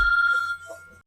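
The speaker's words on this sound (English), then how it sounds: "sorry, a little phone call there" A telephone rings for an incoming call, a loud steady electronic ring lasting about half a second that then fades out, with no voices over it.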